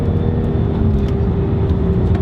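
A stock non-turbo Toyota Supra's naturally aspirated engine drones steadily from inside the car, a continuous deep hum with a low rumble that holds even and loud throughout, with no talking.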